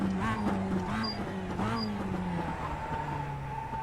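A Mazda MX-5 Cup race car in iRacing at Oulton Park's Island circuit, engine droning steadily and close as revs rise and drop through gear changes under braking, with faint tire noise.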